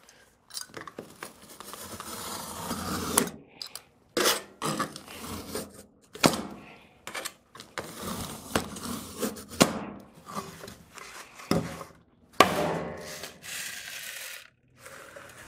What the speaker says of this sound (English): we're going to go ahead and score and snap the DensShield next